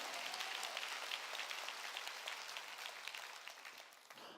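A church congregation claps together in a dense, continuous patter of many hands, steady and moderately distant throughout before it breaks off abruptly at the very end.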